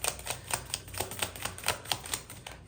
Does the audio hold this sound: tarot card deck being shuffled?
yes